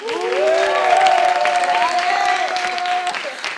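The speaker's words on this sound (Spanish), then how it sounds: "Aplauso para Alejandro." Applause for Alejandro at a group activity in Las Palmas, steady clapping through the clip with voices calling and cheering over it.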